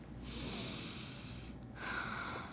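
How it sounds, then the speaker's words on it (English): A patient takes two deep, audible breaths through the nose during a heart check, each a drawn-out sniffing inhale or exhale, close and fairly quiet, separated by a short pause. "if you could take a couple big breaths for me"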